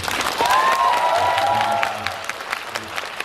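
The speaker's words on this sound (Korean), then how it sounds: "박수 한번 치십시오" A burst of audience applause, loud at first and thinning toward the end, with a few cheers and whistles mixed in.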